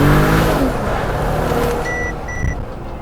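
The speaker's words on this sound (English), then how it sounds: "Turbocharged 6-cylinder, it sounds good." Turbocharged six-cylinder engine of a 2025 Mercedes G 500 revs on a downshift, a smooth rising then settling engine note with faint electronic chimes near the end.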